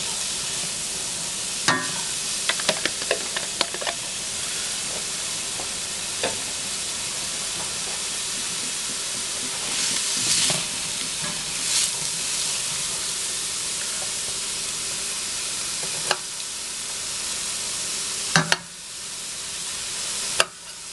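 Onions and carrots sauteing in a hot pan for shepherd's pie give a steady, moderate sizzle and hiss, with occasional stirring clinks and scrapes breaking in along the way, and no talking.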